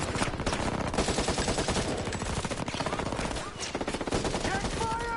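Rapid automatic gunfire in the Ghost Recon Breakpoint shooter game, a dense, continuous rattle of shots with a few clipped bursts, loud and close with voices faintly mixed in.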